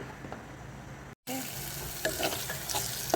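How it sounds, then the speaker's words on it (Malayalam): Shallots, onion, ginger garlic paste, fenugreek and mustard sautéed together in a pan, a faint frying sizzle with light stirring scrapes, briefly cut to silence before resuming slightly louder. "അതിനകത്തോട്ട് കൊച്ചുള്ളി, സവാള, ജിഞ്ചർ ഗാർലിക് പേസ്റ്റ്, ഉലുവ, കടുക് എല്ലാം കൂടി ഇട്ടിട്ട് നല്ലതുപോലെ വഴറ്റുക"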